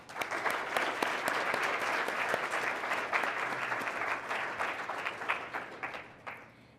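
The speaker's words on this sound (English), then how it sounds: "Let's give our career panel a big round of applause." A crowd applauds a career panel at a Take Our Kids To Work event, with loud, steady, dense clapping that tapers off near the end.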